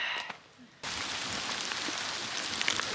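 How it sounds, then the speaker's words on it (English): Hail falling during a mountain storm on the Continental Divide Trail: after a short quiet lead-in, a sudden dense wash of pelting impacts starts and continues steadily, loud and close, with scattered sharper hits. "We're getting some good-sized hail chunks coming down now."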